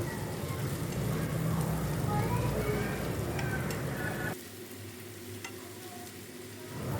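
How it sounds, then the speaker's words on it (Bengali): Chopped onions sizzle loudly in hot mustard oil with steady stirring and scraping for several seconds, then the frying drops to a quieter, softer crackle toward the end; no voice is heard. "পেঁয়াজ কুচিগুলো একটু লাল করে ভেজে নেব"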